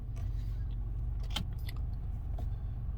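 A car being switched off with keys jangling: a steady low engine or cabin rumble runs throughout, with a few light metallic key clinks close by around the middle.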